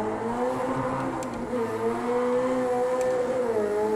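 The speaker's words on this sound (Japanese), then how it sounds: "音ももちろん本物の車から収録されたものになります" A race car engine in the video game Project Cars 2, recorded from a real car, holding a steady high whine with rising and falling pitch and no talk over it.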